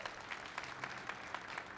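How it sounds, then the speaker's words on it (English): A round of applause rises from the audience at a local business challenge event, a steady wash of hand clapping lasting under two seconds, fairly faint and distant in the hall. "let's give them a round of applause."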